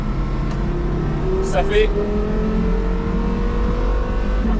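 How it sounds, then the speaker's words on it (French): A Porsche Carrera GT's engine running, heard from inside the car: a loud, steady low drone with rising tonal lines, while someone speaks briefly over it. "on peut parler du bruit de ce moteur qui fait sa légende."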